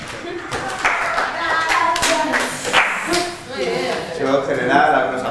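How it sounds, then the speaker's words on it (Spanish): Scattered, uneven handclaps from a small group at an award announcement, mixed with overlapping talk and murmuring close by. "algunos aplausos"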